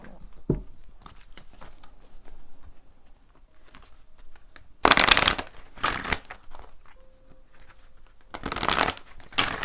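Tarot cards being shuffled in bursts of fluttering riffles, with two loud close shuffles separated by quieter handling and soft taps, no talking.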